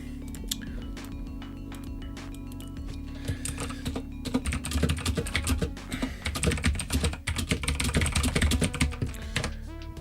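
Fast, clattering keystrokes on a loud computer keyboard, close and continuous, with bursts of rapid typing growing busier toward the end and no voices over it.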